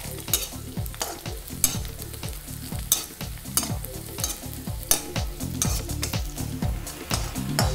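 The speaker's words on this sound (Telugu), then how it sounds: "ఉల్లిపాయలు ఫ్రై అవుతున్న అరోమా అనేది చాలా బాగుంటుంది ఇంకొంచెం ఫ్రై అవ్వాలి" Onions frying in a pan for jeera aloo, under a steady sizzle with regular spatula stirring strokes scraping the pan, close and continuous.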